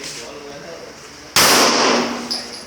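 A single sharp, loud gunshot cracks out at a shooting practice range, sudden and close, with a brief ringing tail and a faint later clank, after a stretch of quieter background.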